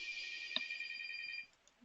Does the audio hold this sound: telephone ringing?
yes